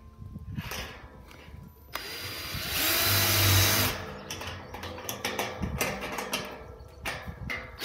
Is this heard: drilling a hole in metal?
yes